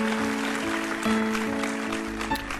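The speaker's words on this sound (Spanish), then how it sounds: "Ok, ya después de esos aplausos" A church congregation claps together in a steady burst of applause, with a sustained tone ringing beneath it, fading toward the end.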